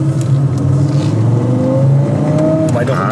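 A VW Passat 32B five-cylinder Syncro engine revs up while accelerating, with a rising, steady tone, close and loud, with faint voices underneath.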